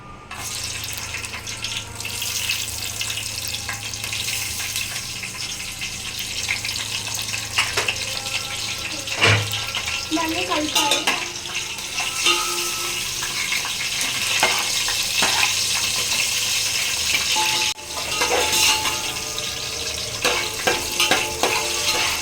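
Green chillies sizzle in hot oil in a pan with whole spices for a gongura chicken curry, a steady close frying hiss broken by occasional stirring clinks and scrapes.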